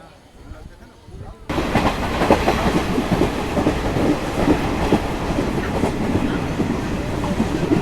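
The 18619 Ranchi Godda Intercity Express slows on its approach to Dumka station. After a quieter start, a steady close rumble of wheels sets in, with rhythmic clickety-clack over the rail joints.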